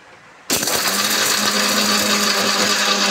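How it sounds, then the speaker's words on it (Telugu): A kitchen mixer grinder whirs loudly and steadily as it grinds a ginger chutney with salt, starting abruptly after a short quiet moment and running without a break. "రెడీ చేసుకొని ఒక 2 రౌండ్లు మిక్సీ తిప్పుకోవాలి"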